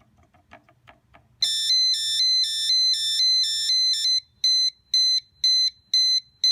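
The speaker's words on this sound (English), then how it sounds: "I'm going to set the alarm off and then cause the device to go into a fire alarm mode" An electronic device alarm in fire alarm mode sounds continuously at high pitch, then breaks into a loud repeating beep-beep pattern, preceded by a few faint clicks.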